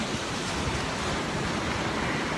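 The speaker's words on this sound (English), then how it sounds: "The waves sound like they're crashing a lot" Ocean waves crash and wash ashore in a continuous, dense roar of surf with no voices over it.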